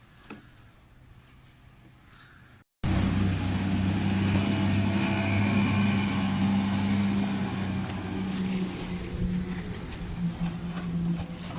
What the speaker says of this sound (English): Another boat passing by.